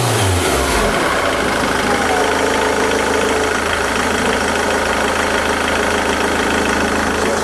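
A car engine is revved hard at full throttle during an air mass meter test, giving a loud, steady, dense roar that holds unbroken from start to finish after a short rise at the beginning.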